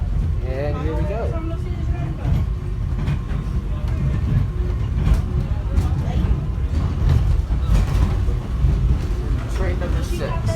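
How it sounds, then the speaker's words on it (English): Subway train ride toward airport Terminal A, a steady loud rumble of the moving car with mechanical rattles throughout, while people talk over it. "now we're riding the subway train to Terminal A here in this video"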